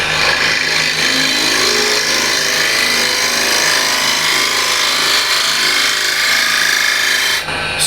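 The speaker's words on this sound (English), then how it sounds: "So let's see how it scrapes." A hand scraper held on a slightly raised tool rest scrapes a spinning workpiece on a lathe, giving a steady, loud, close rasping hiss with a constant machine hum beneath it for several seconds, then stopping abruptly.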